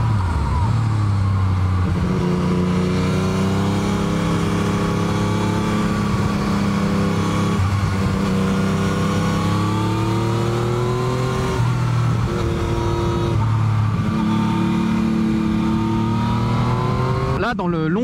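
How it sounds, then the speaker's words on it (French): A 2019 Yamaha MT-09 motorcycle with an aftermarket exhaust drones steadily while riding, its engine note swelling and easing as the revs rise and fall, with a sharp rev burst near the end. "les petits retours que te fait le pot à chaque fois"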